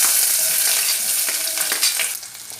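Onions sizzle and fry in hot oil with mustard seeds, asafoetida and curry leaves as they are stirred, a dense, steady crackle close by with soft stirring scrapes for a festive Dasara dish.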